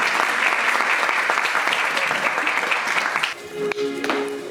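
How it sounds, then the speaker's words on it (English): Audience applause at a Christmas Sunday School event in Doncaster, a dense steady clapping from a crowd welcoming a solo singer, loud and sustained for about three seconds before fading, with tonal sounds and murmuring at the end. "just give a big round of applause, guys"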